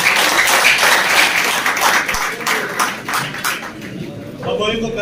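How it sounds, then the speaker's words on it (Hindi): Audience applause at a pigeon-racing club award ceremony in Kashmir, a sustained burst of many hands clapping close by for about five seconds, with crowd voices mixed in underneath. "जबरदस्त तालियां।"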